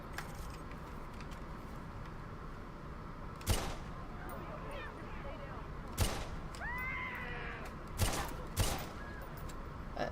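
Gunshots in the video game Watch Dogs, fired at night: four or five isolated sharp bangs spaced a few seconds apart over a constant ambient city hum, with faint chirping tones between them.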